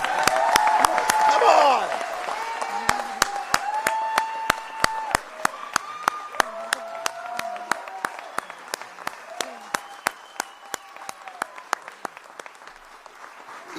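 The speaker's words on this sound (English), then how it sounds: "Give him a round of applause." A crowd at a Home Depot store in Pensacola applauds the Florida governor with a loud burst of clapping that thins to scattered claps, with whoops and voices calling out over it.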